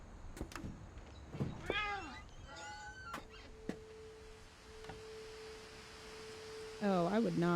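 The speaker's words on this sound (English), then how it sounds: "I hear the cat." A cat meows several times in the video game What Remains of Edith Finch, short rising cries scattered among soft ambient tones and a long steady hum, with a louder meow near the end.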